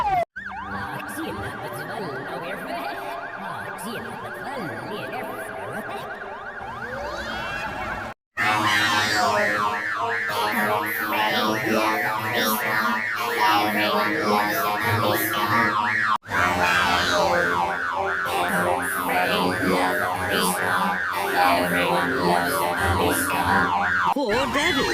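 Police car siren from the Peppa Pig cartoon, a cartoonish wailing tone that repeats steadily and loudly through the clip with a brief break, set against busy background music and cartoon effects.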